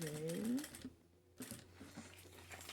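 A home sewing machine stitches fabric for a multipurpose organizer in short mechanical runs, stopping by itself with the needle down in the seam, with a brief pause in the middle and quiet speech near the start.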